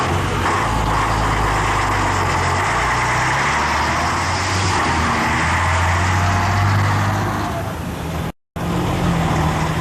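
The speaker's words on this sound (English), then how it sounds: "the trucks are noisy, modern and effective." Engines of a rock band's road crew trucks running, a loud continuous low rumble with steady idling and traffic-like noise, a brief dropout near the end, and no talk.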